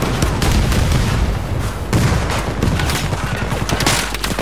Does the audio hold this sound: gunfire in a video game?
yes